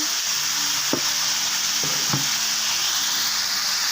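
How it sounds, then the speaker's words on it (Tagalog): String beans hit a hot, sizzling pan while cooking ginataang kalabasa, a loud steady hiss with a few sharp clatters of stirring near the one- and two-second marks. "lagay ko na rin tong sitaw"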